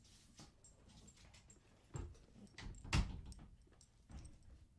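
A young dog comes into a room during a live guitar lesson, with soft scattered footsteps, bumps and light jingles rising and falling at close range and no talk.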